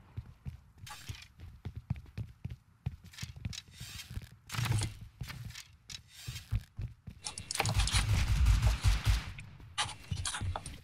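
Gunfire in the survival game Rust, irregular sharp cracks and thuds scattered among rustling footsteps and movement, with one dense burst of rapid shots near the end, all fairly close.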